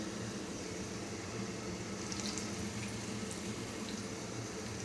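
Sweet bhadusha dough fries in hot oil, giving a steady, even bubbling sizzle that holds at moderate volume throughout with no voices.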